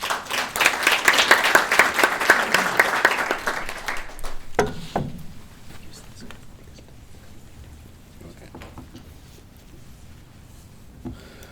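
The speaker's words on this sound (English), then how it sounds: "If you could give him a warm round of applause" An audience claps for a speaker at a UN Human Rights Day panel at Portland Community College, dense applause for about four seconds that thins to scattered claps and fades into a quiet room.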